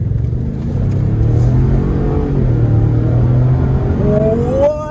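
A Ford Expedition with a 3.5 liter twin turbo V6 accelerates at full throttle, its engine droning steadily from inside the cabin and then climbing into a rising whine toward the end.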